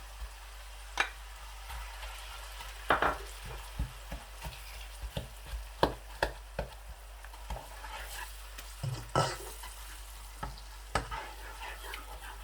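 Tomatoes go into sizzling masala in a pan, giving a quiet sizzle with intermittent scraping and stirring knocks. The clicks and scrapes recur irregularly throughout, without talk.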